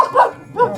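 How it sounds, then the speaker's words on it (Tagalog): An angry dog barks in two harsh, loud bursts close by, the second following a short gap. "Oh, may aso pa. Nagalit sa atin yung aso."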